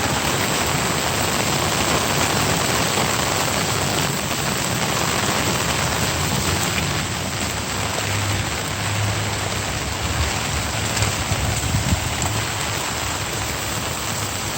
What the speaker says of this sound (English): It's a good little rain this time. A lot more water.